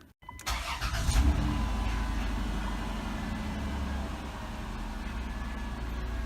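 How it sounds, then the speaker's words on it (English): A 2005 Chrysler Town and Country minivan's 3.8-liter engine cranks and catches, then settles into a steady, close, loud idle that holds through to the end, with no talking. "let's go ahead and fire it up and let it idle for a second"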